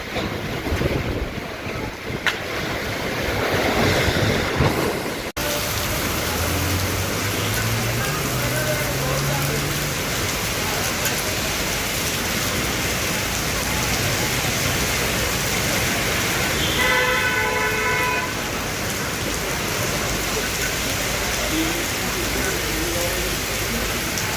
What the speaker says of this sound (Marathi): सुसाट वारा, मुसळधार पाऊस आणि जलमय रस्ते